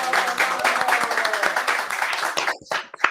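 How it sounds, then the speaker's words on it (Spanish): A small audience at an educational psychology session claps together for a few seconds, the applause thinning to a few scattered claps as it fades out. "aplauso para Piura"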